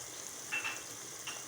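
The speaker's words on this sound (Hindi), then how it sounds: "अब ये हमारा टमाटर जब तक फ्राई हो रहा है" Tomatoes frying in a pan for biryani give a faint, steady sizzle with a couple of soft stirring scrapes, quiet and close, with no voices.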